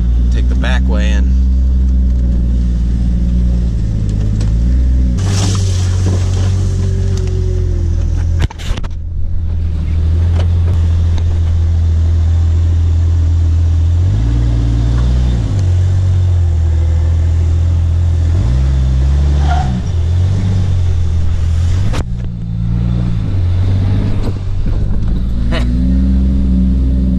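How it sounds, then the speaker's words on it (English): Jeep XJ driving with a steady, loud low engine drone and a whining, noisy power steering pump, some revving changes along the way, heard continuously and close. "I just noticed that power steering pump's making a lot of noise."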